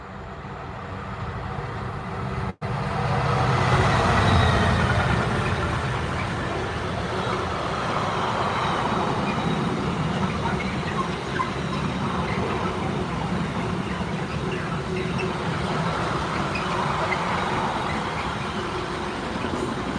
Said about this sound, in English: I think we've got a freight train coming